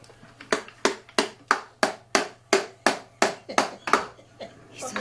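A toy hammer from a new tool set bangs in a steady series of about a dozen sharp, close knocks, each ringing briefly, with a faint hum underneath.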